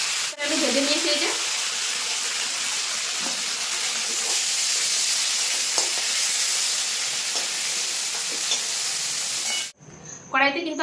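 Prawns frying lightly in mustard oil in a pan, a steady close sizzle and hiss with occasional stirring scrapes, cut off near the end by a brief clatter.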